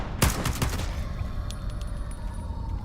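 Gunfire in the shooter game ITR2: a rapid burst of several close, sharp shots at the start, then a few fainter cracks over steady background rumble.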